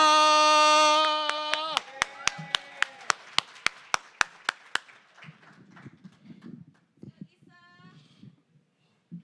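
Audience at a conference plenary session cheering for a poet: a sustained voiced tone, then a run of sharp, evenly spaced claps that fade into scattered softer noises and a brief tone.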